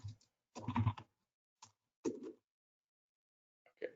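Short bursts of typing on a computer keyboard, a few quick clusters of clicks separated by pauses, close and fairly faint, with no talk.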